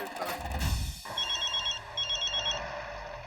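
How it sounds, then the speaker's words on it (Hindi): A telephone rings in two electronic trilling bursts in a comedy scene, following a short rumble of background noise, fairly loud and close with no speech over it. "जेठालाल का फोन है"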